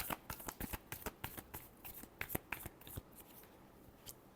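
Tarot cards are shuffled by hand in a quiet room, giving a run of soft, irregular riffling snaps and flicks up close, with no talk.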